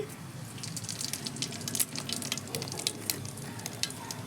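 Cumin seeds sizzle in hot mustard oil with ghee for tempering, a steady close crackling fry with scattered sharp pops and spits throughout, no talking.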